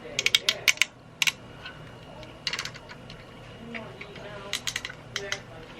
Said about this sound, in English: Everything's on ratchets.